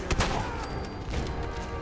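Shotgun fire in the game Fallout 4, with a couple of loud, close blasts at the start followed by a dense, rumbling roar of gunfire and echo.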